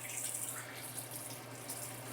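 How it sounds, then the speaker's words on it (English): Water running through an electric paint sprayer during cleaning, a steady close rushing and splashing like a tap filling a sink, with a low motor hum underneath. "And we're going to start running water through it and cleaning it out"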